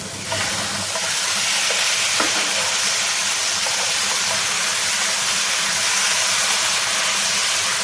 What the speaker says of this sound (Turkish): Tavuğumuz tamamen pişene kadar bu şekilde pişiriyoruz.